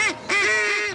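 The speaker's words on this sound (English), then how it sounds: "you want to blow the duck call for that guy?" A duck call blown outdoors during a duck hunting outing, giving one short nasal quack and then a long, loud, sustained honking call with bright harmonics, heard alone without talk.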